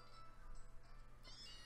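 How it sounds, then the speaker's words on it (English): Cats meowing from outside, wanting to come in, faint and distant, with a brief higher cry near the end over low steady background hum. "I think the cats probably want in."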